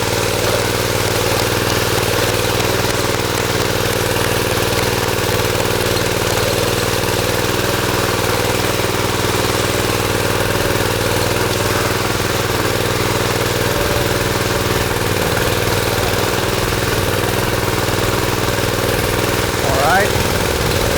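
Steady engine drone of a concrete power trowel machine with a CVT clutch, running continuously at a constant level throughout, close and fairly loud, with no break in the hum.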